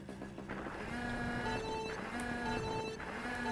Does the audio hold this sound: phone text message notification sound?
yes